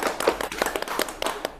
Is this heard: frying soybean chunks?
no